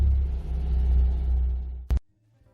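A car engine, a vehicle fitted with a DS700 immobilizer disarmed by phone, runs with a steady low rumble for nearly two seconds, then a brief loud burst and a sudden drop to near silence.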